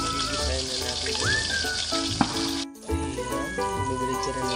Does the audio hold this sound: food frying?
yes